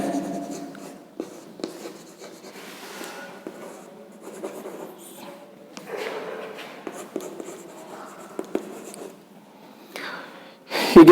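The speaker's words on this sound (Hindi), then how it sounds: "मैं इसका एग्जाम्पल यहां लिखता हूं" Marker or chalk scratches across a board during a biology lesson, quiet intermittent strokes with soft breaths and small taps, then a louder bump at the end.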